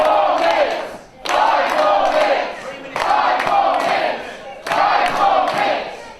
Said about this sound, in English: This crowd obviously not receiving that very well.